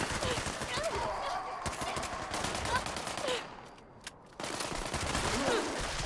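Gunfire in Fallout 76, rapid repeated shots in a steady burst, a short lull, then more firing, fairly loud under background game noise.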